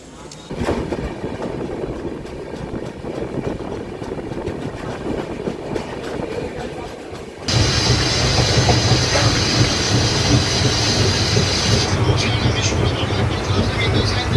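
A passenger train on the Kolkata to New Jalpaiguri route, service 15959, runs on rails near Khagraghat Road station in West Bengal. Its steady rumble and wheel clatter carry throughout and grow noticeably louder and fuller about halfway through.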